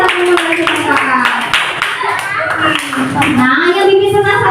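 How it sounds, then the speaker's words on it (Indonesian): A classroom breaks into applause for a group of students, a brisk patter of many hands clapping close by while children's voices and talk carry on over it throughout. "Tepuk tangan buat kelompok orang yang 2."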